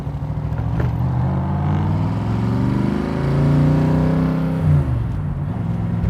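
A 1965 Shelby Cobra Backdraft engine rumbles close by and runs steadily for the whole stretch, with its pitch rising and falling as the revs climb and ease.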